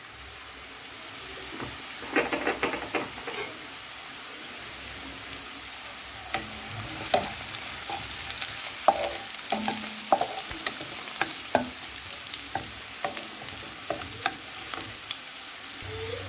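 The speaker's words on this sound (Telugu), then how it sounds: "చూసారు కదా, ఆనియన్స్ కొంచెం వేగాయండి." Onions sizzle steadily in a pan for spicy chicken curry, with a continuous close frying hiss broken by occasional stirring clinks and scrapes.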